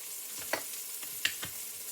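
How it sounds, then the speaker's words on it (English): Steak searing over a wood fire hisses steadily and close, with a few brief crackling pops rising above the sizzle. "while the steak is searing on this side"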